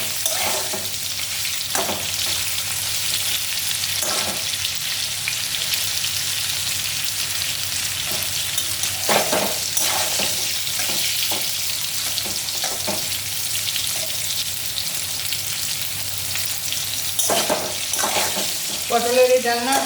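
Pointed gourd (potol) fries in a pan with a steady, dense sizzle and crackle that runs throughout, with occasional louder spits and pops rising above the hiss.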